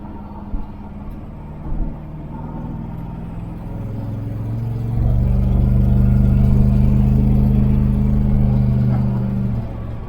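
A powerful car's engine idles with a low rumble, then opens up around the midpoint into a louder, sustained acceleration with a deep, rising drone that holds until near the end, heard from inside the car.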